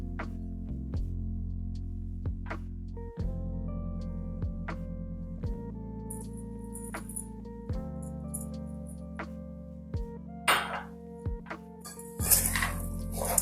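A spoon clinks against a pot or jar while amla pickle is stirred with sesame oil, with repeated sharp close taps at an uneven rhythm and a scraping rustle toward the end.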